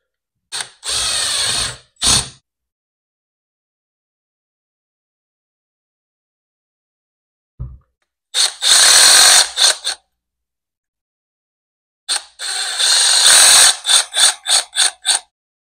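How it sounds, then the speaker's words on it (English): Long screws driven in with a power driver during an assembly job: three separate whirring bursts with silent gaps between, the last breaking into short stuttering pulses, with no talking. "Long screws in first."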